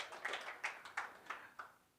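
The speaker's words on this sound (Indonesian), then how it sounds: "Kasih tepuk tangan yang meriah buat Tuhan kita." Church congregation clapping at a service, a soft, fairly distant patter of hands with a few sharper accents spread across the moment, no voices on top.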